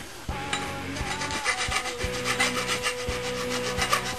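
A steel sword blade is rubbed and smoothed by hand in steady rhythmic back-and-forth rasping strokes, close and continuous, with no talking.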